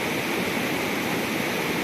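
An omelette sizzles in a pan over a gas burner while cooking outdoors in a forest, a steady, dense hiss heard close and continuous without talk.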